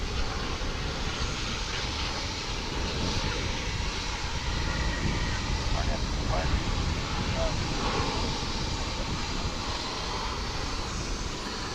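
A jet airliner roars steadily at Dallas/Fort Worth International Airport, a loud broad engine rumble throughout with someone talking faintly beneath it.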